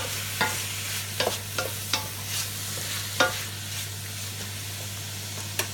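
Beef stirred in a hot pan while frying during keto meal prep, with a steady sizzle and several sharp scraping stirs at irregular intervals, close and moderately loud.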